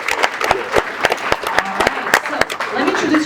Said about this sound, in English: can I please get a round of applause for Platformatic today?